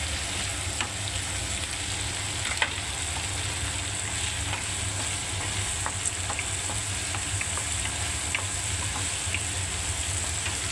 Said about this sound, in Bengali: এবারে আমি টমেটো আর কাঁচা লঙ্কা দিয়ে দিচ্ছি